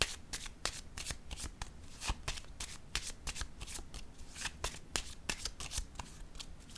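Tarot cards are handled and laid down, giving a continuous run of crisp, close card flicks and snaps with no talk.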